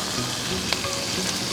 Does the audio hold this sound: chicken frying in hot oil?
yes